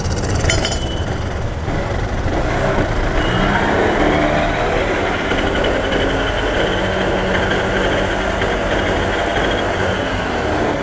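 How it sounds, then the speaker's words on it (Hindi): A vehicle engine runs steadily with a wheel spun up on it at a tire puncture repair demonstration, a loud continuous mechanical roar and whir throughout with no talk. "देखिए आपके सामने हमने गाड़ी स्टार्ट करी और पहिए को घुमा के दिखाया।"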